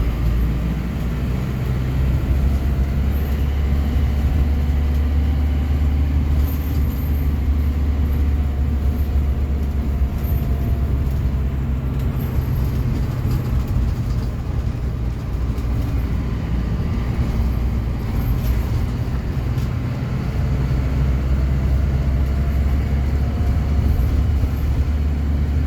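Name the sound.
shuttle bus driving along the Blora–Cepu road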